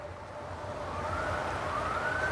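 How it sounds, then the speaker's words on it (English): An emergency vehicle siren wails in the distance at night near a parked camping spot, a faint rising tone growing slowly louder over steady low background rumble, with no one speaking. "There's a siren."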